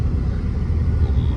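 Brief, continuous low rumble of vehicles moving along a busy mountain ghat road, engine noise steady and fairly close.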